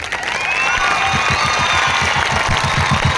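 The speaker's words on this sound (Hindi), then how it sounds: "जो प्रीच करेंगे तालियां बजाएं।" Audience at a convention's last-night session claps together, a loud, steady wash of applause with a rhythmic pulse running through it for about three seconds.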